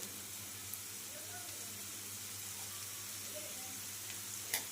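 Onions fry in a pan for mutton chukka, giving a soft, even sizzle and hiss that holds steady throughout, with a faint click near the end and no talking.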